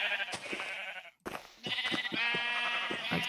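Sheep bleat repeatedly in a farming video game, close and fairly loud, several wavering cries in quick succession with a brief pause near the middle before more overlapping bleats follow.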